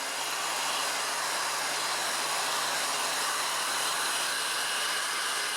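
A heat gun warms a waterproofing treatment into leather boots, blowing a steady, loud airy roar that holds constant from start to finish with no talk.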